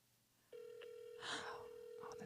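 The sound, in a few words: telephone ringing during a support call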